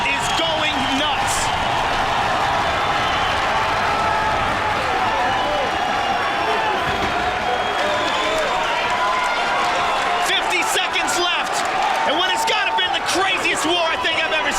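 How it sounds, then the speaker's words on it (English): A packed arena crowd roars nonstop at a 2005 UFC fight as two bloodied fighters stand back up. The cheering is loud and continuous, with commentators talking over it throughout. "This crowd is going nuts."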